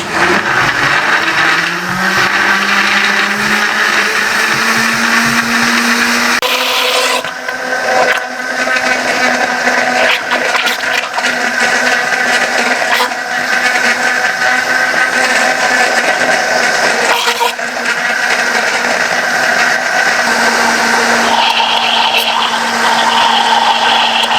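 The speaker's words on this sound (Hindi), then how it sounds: "इसको ऊपर से कवर दे दें और इसको थोड़ी सी आपको इसकी ताकत लगेगी मशीन की इसको ग्राइंड होने में" A blender runs loud and steady, grinding a watermelon smoothie with chilled milk under a closed lid; the motor whine shifts pitch a few times as the load changes, with no talk over it.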